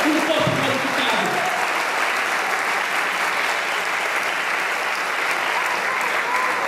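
A church congregation applauding, a dense, loud and steady wash of clapping that stays even throughout, with a voice briefly audible at the start.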